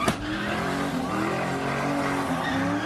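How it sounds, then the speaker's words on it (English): Car tires screeching continuously at an Oakland street sideshow, a loud, wavering squeal with revving engine beneath, heard after a sharp thump at the start. "You can still hear tires screeching as he lies motionless on the sidewalk."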